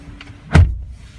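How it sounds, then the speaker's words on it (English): A single solid door thump on a 2016 Chevrolet Silverado truck, a short close nearby with a brief low thud, preceded by faint mechanical noise. "close up the door here."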